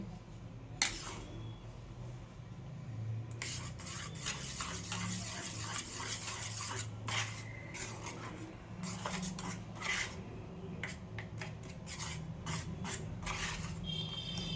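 A spoon scrapes and stirs a thick New Year cake batter in a bowl in quick, repeated strokes. The close rasping and clinking runs almost nonstop at a soft level.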